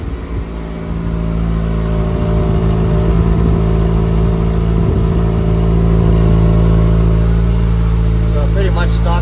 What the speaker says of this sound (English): We got the exhaust on here and letting it idle up right now.